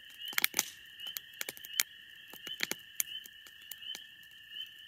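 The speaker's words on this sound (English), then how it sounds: "the frogs chirping away in the background." Frogs call at night by a lake near a fly-in fishing cabin, a faint scattering of sharp, clicking chirps in irregular bursts against a quiet background.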